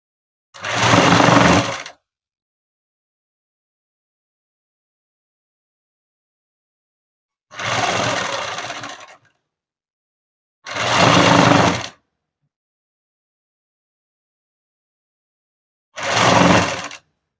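A sewing machine stitches a gathered ruffle in four separate loud bursts, each one to two seconds long, with silent gaps between them.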